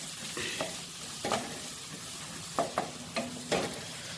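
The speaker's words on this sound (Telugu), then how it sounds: "వెన్న కరిగిన తర్వాత జీలకర్ర ఆవాలు ఎల్లిపాయ చిన్నగా కట్ చేసుకున్నవి మంచిగా ఫ్రై చేద్దాము" Cumin, mustard seeds and finely chopped garlic frying in melted butter, a soft continuous sizzle broken by several sharp scrapes and taps of a spoon stirring the pan.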